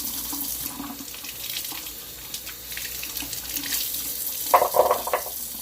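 Kitchen tap water runs into a sink as vegetables are rinsed, a steady soft splashing stream with a brief louder burst of splashing near the end.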